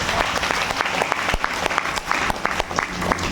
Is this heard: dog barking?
no